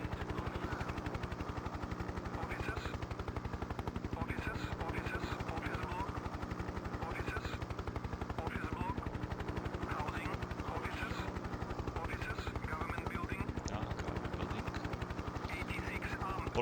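In the video game Hind (1996), helicopter rotors chop in a fast, steady rhythm throughout, loud and unbroken, with faint battle noise mixed in the background.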